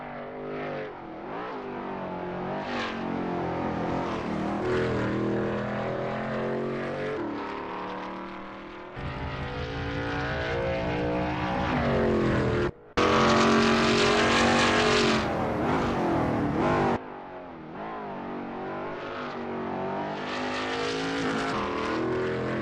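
An ASRL Veloce GTS-8 race car in a racing video game runs a practice lap at Watkins Glen, its engine droning steadily and rising and falling in pitch through gear changes, with two abrupt cuts in the sound.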